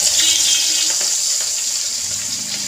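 Pieces of rohu fish slide into hot oil in a pan, producing a loud, bright, continuous frying hiss that stays close and even for a few seconds.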